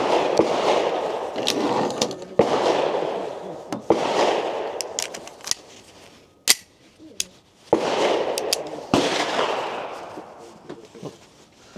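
Pistol shots at target practice, sharp cracks spaced a second or more apart, several sounding loud and close over a rushing outdoor background with brief quiet gaps.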